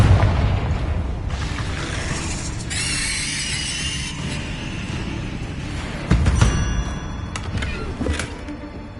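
Confringo fire spells blast and explode during combat in the Hogwarts Legacy video game, heard as a loud continuous rumbling din with a heavier boom partway through, alongside metallic clattering game sounds.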